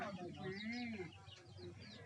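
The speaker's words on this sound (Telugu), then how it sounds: "అది మా కోళ్ళు" Chickens cluck softly in the background while a person talks over them, with a few short bird calls rising above the voice.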